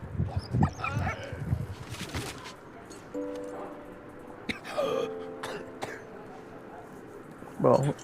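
Dog in the World War I video game Valiant Hearts, heard as short barks and whimpers mixed among a man's speech and coughs, with a brief sustained whine midway; close but partly masked by the talking.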